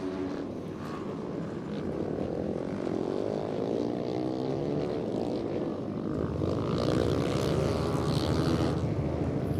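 An ice racing vehicle's engine on frozen Lake Wissota, held at full throttle through a corner, a loud buzzing whine with sweeping pitch that swells as it passes, over a constant outdoor roar.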